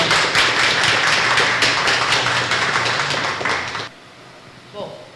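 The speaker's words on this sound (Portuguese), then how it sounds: "vamos bater palmas para o palestrante" An audience applauds a lecturer at a talk about the birds of São Carlos, with dense, lively clapping that stops abruptly near the end and gives way to a brief quiet moment.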